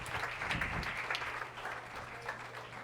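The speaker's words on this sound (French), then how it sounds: "put your hands together" Applause for a preacher at a prayer summit opening session, a steady wash of clapping from a crowd that gradually softens.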